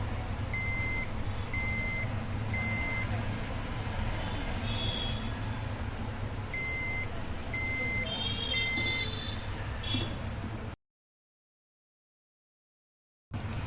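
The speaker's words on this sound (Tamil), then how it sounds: "சில டைம் சரியாகாமல் மறுபடியும் அதே மாதிரி பீப் சவுண்ட்ஸ் வர சான்சஸ் இருக்குது." Repeated electronic beeps from a desktop computer that won't start properly, short tones in several spaced groups over a steady fan hum and background noise, with faint talk.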